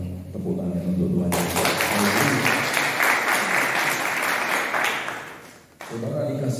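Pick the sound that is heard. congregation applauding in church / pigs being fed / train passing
congregation applauding in church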